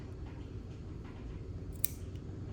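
Scissors cut through craft material near a silicone-glued piece for a handmade item: one crisp snip stands out against a quiet, low background hum.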